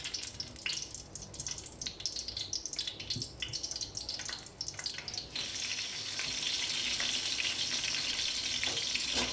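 Green chili with cinnamon, cardamom and cloves sizzles in hot oil for chicken biryani, a crackling, spitting fry that swells into a steady, loud hiss partway through.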